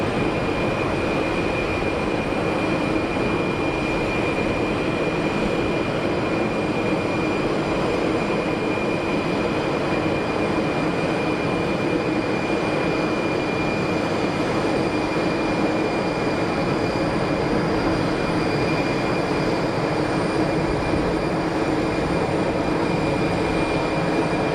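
Boeing airliner on short final at Geneva Airport, a steady, broad rushing roar with a thin whine layered on top, sustained and unbroken throughout.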